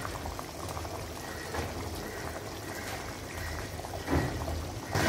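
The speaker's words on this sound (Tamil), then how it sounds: "பாருங்க குழம்பு இந்த அளவுக்கு கொதிச்சதுக்கு அப்புறம் தான் இப்போ நம்ம உருண்டை இதில் போட போகிறோம்." Kuzhambu broth for ball curry boiling in a pot, a continuous close bubbling and gurgling at steady volume, with a slightly stronger burst of bubbles near the end and no voices.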